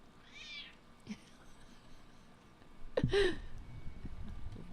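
A pet cat meows indoors: a thin cry first, then a louder, drawn-out meow, close to the microphone with low room noise throughout.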